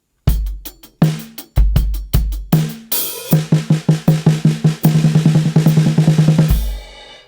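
A snare drum plays alone, starting with spaced sixteenth-note groups, then speeding into a steady roll of thirty-second notes before stopping.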